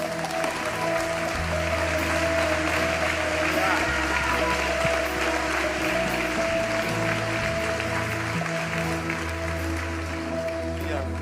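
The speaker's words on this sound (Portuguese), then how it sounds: "Aplauda o Senhor por essas vidas." A church congregation applauding during a service, sustained dense clapping that carries through the whole stretch over low sustained music.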